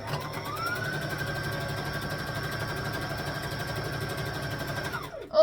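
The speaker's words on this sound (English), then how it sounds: "So now we're going to go back to the sewing machine, join the sides like this," Sewing machine stitching the side seams of quilting-cotton Christmas shorts, running as one steady, fast whir for about five seconds. A soft mechanical hum sits beneath it, and it ends with a short clunk.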